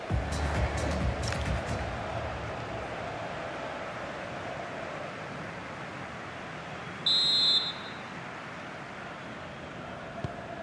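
A single sharp referee whistle blast, about half a second long, sounds over a fading stadium crowd murmur in an EA Sports FC 26 football match between a Bundesliga XI and a La Liga XI.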